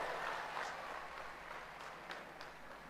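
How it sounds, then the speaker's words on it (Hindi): An audience in Manipur applauds to welcome PM Narendra Modi. The hall-wide clapping sounds as a dense, steady wash that fades slightly toward the end. "आइए जोरदार तालियों से फिर से माननीय प्रधानमंत्री जी का स्वागत करें"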